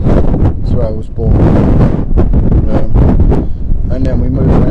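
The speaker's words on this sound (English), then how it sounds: "Really, really windy around the west side." Strong, gusty wind buffets the microphone outdoors on the west side of a high viewpoint above Paddington Basin in London, a loud continuous rumble that swells and dips throughout.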